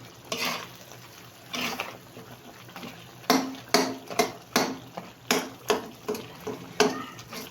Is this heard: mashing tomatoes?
yes